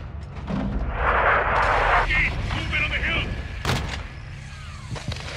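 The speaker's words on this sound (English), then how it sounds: "we're taking RPG fire from the east" Heavy gunfire and an RPG blast rumble through a Call of Duty battle, with a loud booming roar, a sharp crack midway and continuing shots, while voices talk over the combat.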